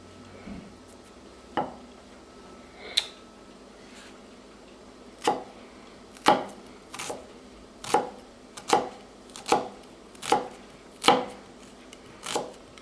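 Knife finely chopping a peeled shallot on a cutting board, a string of about ten sharp, distinct taps that start sparse and settle into a steady rhythm, close and clear with no talking.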